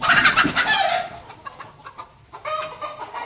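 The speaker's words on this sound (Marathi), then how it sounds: "तुम्ही बघू शकता इथं डब्यामध्ये अंडे द्यायचे कोंबडी बसलेली" Backyard native village hens clucking while nesting in egg-laying boxes cut from old oil tins, close and fairly loud, with a busy burst of overlapping clucks at first, then quieter scattered calls before another round near the end.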